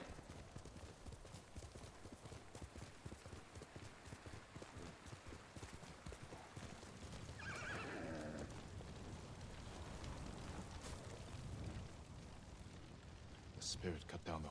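Horse hooves clip-clop in Ghost of Tsushima amid battle noise and rustling, with a burst of crashing activity midway and a voice speaking faintly in places; no clear neighing stands out.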